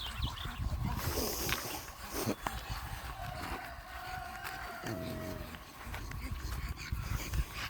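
Several dogs in a dog pound, with loud, dense barking and yelping that keeps up for the whole stretch over a busy, noisy background.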